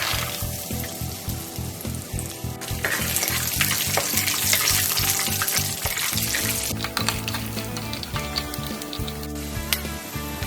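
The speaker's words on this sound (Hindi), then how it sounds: "तो इसको भी मैं फ्राई कर लूंगी।" Peanuts frying in hot oil over a low flame make a strong, close crackling sizzle with stirring scrapes, while a musical background plays underneath throughout.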